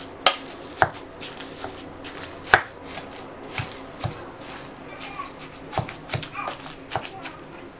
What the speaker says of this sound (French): On va mixer le tout pour bien homogénéiser.